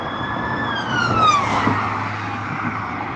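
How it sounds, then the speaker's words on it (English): A police siren wails and drops in pitch as the vehicle passes along a road, loud over steady traffic rumble, fading after the pass. "Got the police coming along here. Or is it an ambulance?"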